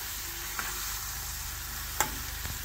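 Tomatoes sizzling steadily in a pan for South Indian tomato rice, a continuous close frying hiss with a few soft clinks of stirring, no voices.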